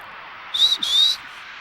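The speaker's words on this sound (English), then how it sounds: "I can make a whistle sound, but I can't really whistle." A person whistles two short, breathy high notes in quick succession, the second slightly longer, fairly close and alone against a quiet background.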